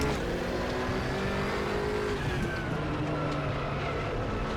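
BMW M6 GT3 race car in the RaceRoom video game, its engine droning steadily close up under load with shifting pitch through a corner, a faint tire squeal mixed in.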